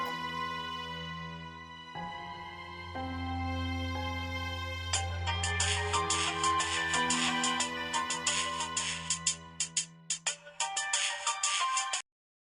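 A phone ringtone plays a bright, layered electronic melody for about twelve seconds, building in busier notes partway through before cutting off abruptly into silence.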